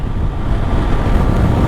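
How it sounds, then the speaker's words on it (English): Steady wind blusters across the microphone outdoors, a continuous low rumble with no pauses, fairly loud and alone. "It's quite windy today."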